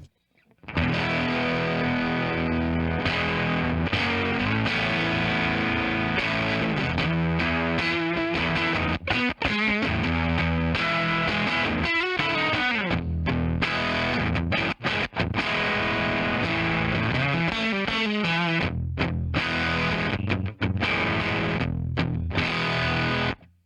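A heavily distorted electric guitar played through a BES Exploding Preamp plays chords and riffs continuously, fuzzy and loud, with brief pauses between phrases.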